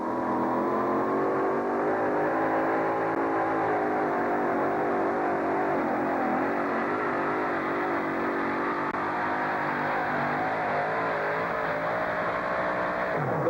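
Thunderbird Super Coupe two-wheel-drive pulling truck straining against a sled at a truck and tractor pull, its engine roaring loudly and steadily before bogging down, the pitch dropping near the end.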